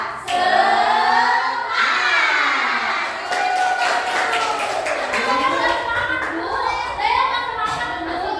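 Classroom children chanting the rhythmic 'tepuk semangat' clapping game together, loud sung syllables from many young voices with claps woven in, sustained and energetic throughout.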